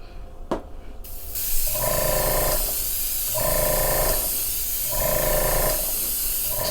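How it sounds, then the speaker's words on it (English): An airbrush spraying food colouring onto a cake hisses in steady bursts, spraying on and off in a regular rhythm, with a few faint clicks at the start. "I'm just gonna spray it till I get it, you know, the way I want it to look"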